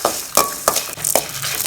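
Curry ingredients for chicken kulambu roast in a pan, several distinct scraping stir strokes over a dry sizzle, close and fairly loud with no voices.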